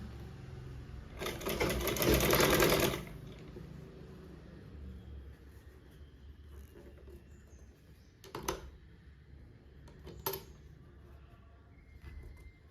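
A sewing machine stitches piping onto fabric in one loud, close burst of about two seconds, followed by a quiet stretch broken by a couple of soft clicks.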